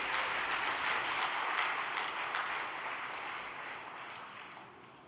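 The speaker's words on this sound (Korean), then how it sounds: "단상에 모실 때 뜨거운 박수 부탁드리겠습니다" Warm, dense applause from a church gathering as speakers are welcomed to the podium, loud at first and then gradually tapering off over about five seconds.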